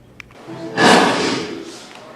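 A space explosion from the film Interstellar: after a faint tap, a sudden loud burst of broad rumbling noise swells up, then slowly thins and fades over a couple of seconds.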